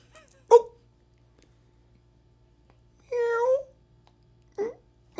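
A human voice imitates a cat's meow, one drawn-out call set between two short vocal yelps against near silence.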